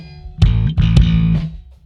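An isolated bass part sounds in the 120 to 200 Hz low-mid hooting range of a mix, with two loud, boomy, sustained notes about a second long, close and alone.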